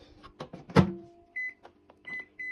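A microwave oven reheating 7-Eleven grilled pork gives a single loud door clunk, then several short, clear electronic beeps in quick succession, close by and with no talking.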